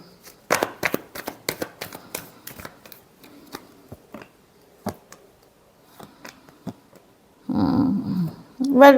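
Tarot cards being shuffled, a rapid run of crisp riffling snaps near the start, then a few scattered soft card taps and a short burst of talk at the end.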